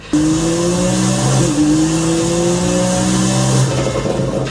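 A loud race car engine in a video game drones steadily, its pitch shifting slightly as it revs, with no voices.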